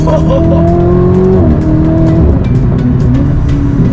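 Lamborghini Aventador or Ferrari 488 GTB supercar engine screaming loudly up through the revs under hard acceleration over a crest, a rising harmonic whine that dips at a gear change then climbs again, close and continuous.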